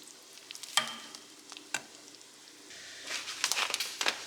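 Grated Parmesan cheese stirred into hot buttered grits in a pan, giving soft scraping stirs and faint sizzling with a few sharper spoon knocks, a busier burst of stirring near the end.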